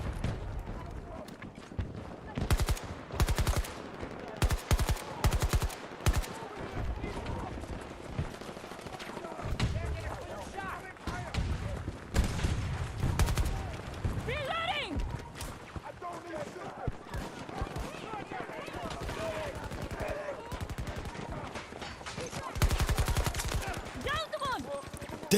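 Rapid bursts of the player's gun firing in Battlefield 2042, loud and close, coming in repeated volleys across the clip with a voice talking between and over the shots.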